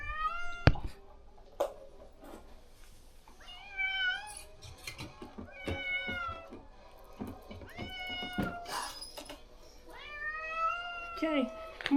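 A newly adopted house cat meows repeatedly, with short, rising cries spaced across the scene that are close but fairly soft, amid handling noises, clicks and quiet voices.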